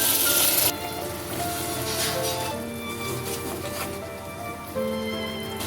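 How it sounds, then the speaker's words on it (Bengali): Water poured onto a spice paste of ground dried and green chillies frying in a pan sets off a loud, steady sizzle that crackles continuously throughout, with a sharper burst at the start. "মশলাটা একটু ভেজে নিয়ে এরপর মশলা দেওয়ার জল দিয়ে দিচ্ছি।"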